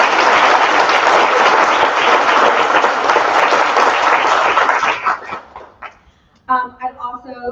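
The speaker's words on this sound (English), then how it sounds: "A round of applause for those two." A room of attendees at the 2024 AHS annual membership meeting gives a loud, sustained round of applause that fades after about five seconds, then a single voice begins speaking.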